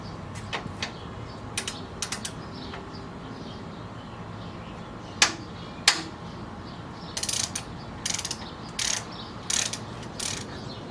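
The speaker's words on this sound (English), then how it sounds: "Now I'm going to loosen the discharge hose with a 10mm." A ratchet wrench with a 10mm socket loosens the A/C discharge hose bolt on a 10th-generation Honda Civic, giving short bursts of quick clicking spaced across a quiet background, close and fairly soft.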